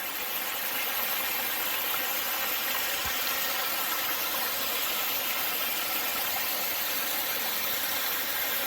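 Mountaineer Falls, a waterfall along the Appalachian Trail, gives off a steady, even rush of falling water, soft and distant, with no voices over it.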